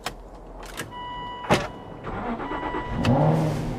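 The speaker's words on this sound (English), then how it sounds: "That's how the car starts, which is amazingly cool." A 2011 Aston Martin Vantage V8 engine cranks and catches, rising into a steady idle after a few clicks and a whirring electric motor sound.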